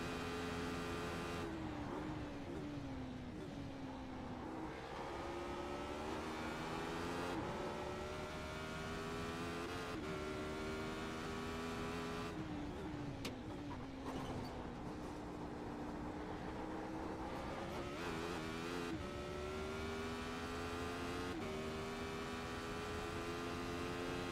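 A Radical SR8 race car in the iRacing simulator on the Nordschleife revs up and down through the gears, its engine note climbing and dropping again and again, loud and continuous with no talk.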